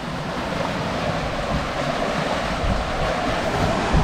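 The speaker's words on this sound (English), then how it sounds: "Every now and again we get a little wave over the front and Marie's beanbag gets all wet." Steady rushing water and wind noise throughout as a wave splashes spray over a sailboat's bow at sea, loud and continuous with no voices.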